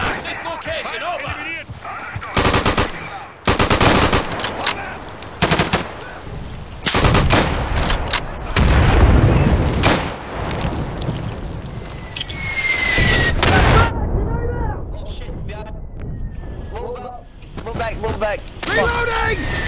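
Artillery barrage and gunfire crash through a video game battle, with dense bursts of booms, rapid shots and slams in quick, uneven succession, loud and close, with voices shouting between them.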